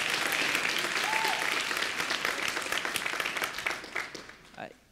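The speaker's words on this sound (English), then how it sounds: "There was a lot of applause in this room about overturning Citizens United." Audience applause fills a conference room at a political festival, steady dense clapping from a sizable crowd that tapers off toward the end.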